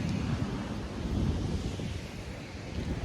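Wind at the seaside in Jesolo buffets the microphone in a steady, roaring rush with low gusty rumble, constant throughout with no voices.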